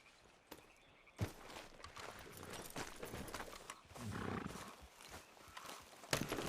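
Horse hooves clip-clop at a steady walking pace in the Red Dead Redemption 2 video game, a soft rhythmic plodding over a low outdoor ambience with occasional louder thuds.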